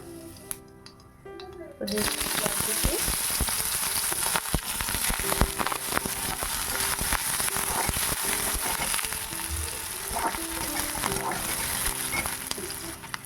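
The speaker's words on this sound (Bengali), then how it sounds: "কড়াইতে তেল দিয়ে তার মধ্যে জিরে ফোড়ন দিয়ে দিলাম।" Cumin seeds hit hot oil in a wok with a sudden burst of sizzling that stays loud and crackly, mixed with stirring clinks and brief background voices.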